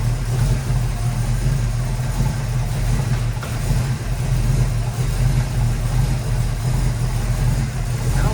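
A 1970 Ford Mustang coupe's 302 V8 with automatic transmission runs steadily, a loud, continuous low rumble that holds near and even, with no speech over it.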